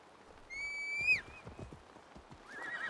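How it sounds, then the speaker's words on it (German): A horse in the video game Assassin's Creed Valhalla gives a sharp whinny, followed by a few hoofbeats on the ground, heard alone without talk. "Dann rufe ich mal mein aktuelles Pferd."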